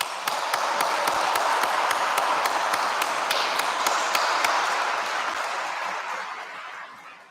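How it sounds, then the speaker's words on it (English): Graduation crowd at Misericordia University's spring commencement gives sustained applause, a broad wash of clapping with a few sharp taps early on, holding steady before gradually fading away. "let's give him another round of applause."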